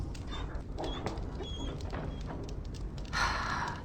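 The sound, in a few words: dog whimpering, from video game Dragon Age Origins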